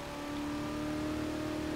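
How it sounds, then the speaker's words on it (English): A video game drift car engine holds at high revs around 4,800 RPM, an even mechanical hum with a sustained tone, continuous and unchanging throughout. "It's still revving."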